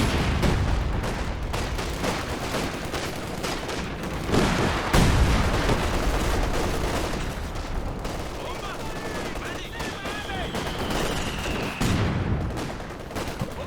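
A walking Stuka rocket artillery barrage in the Company of Heroes 2 video game pounds out repeated heavy blasts amid steady gunfire and battle rumble, with a rising whistle and a person talking over it.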